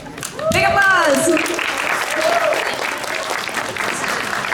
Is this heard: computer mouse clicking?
no